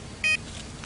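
A radar detector gives one short, sharp electronic beep, close and clear over a low steady hiss.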